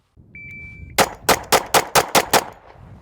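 A shot timer beeps, then a pistol fires a rapid bill drill, seven sharp shots in quick, even succession, loud and close outdoors.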